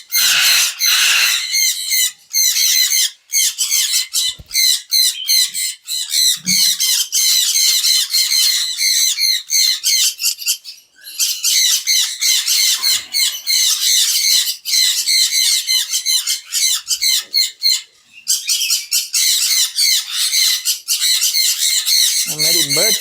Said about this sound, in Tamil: இப்போ இதில் ரைட் சைடில் இருக்கிறது க்ரீன் சீக் கன்யூருங்க.